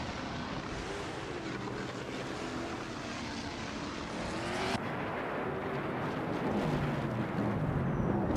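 Race cars in a racing video game roar in a continuous, steady engine drone, with a shift in pitch partway through as the cars run nose to tail.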